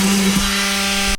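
Power sander running on a stripped steel M38 NSFK helmet during restoration, giving a steady, loud motor whine with a constant pitch that cuts off abruptly at the end.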